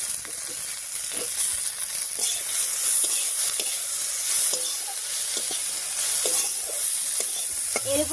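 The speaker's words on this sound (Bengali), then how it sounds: "এবার এর মধ্যে দেবো টমেটো কুচি।" Chopped tomato dropped into hot oil with a coconut tempering, sizzling and being stirred in a steady close fry with faint scraping, lasting throughout without talk.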